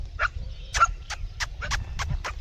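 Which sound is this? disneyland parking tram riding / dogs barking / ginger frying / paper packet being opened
dogs barking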